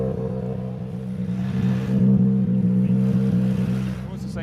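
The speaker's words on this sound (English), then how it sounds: "That is our first car into the stage, Adrian Formeau, just the other side of where we're all sitting waiting here." A WRC rally car enters the stage at Safari Rally Kenya, its engine droning and revving steadily from across the way, a loud sustained growl that swells in the middle and eases off.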